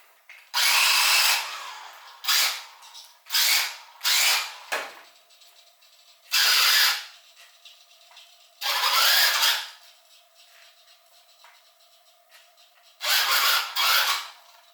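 A vintage Team Associated RC10 electric RC car motor whirs in several short bursts of about a second each, loud and close, separated by quiet gaps with a faint steady hum.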